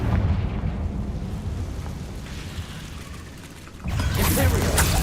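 A Confringo fire spell from the Hogwarts Legacy video game detonates as a rumbling, sustained blast, fading slightly before a second loud burst erupts near the end.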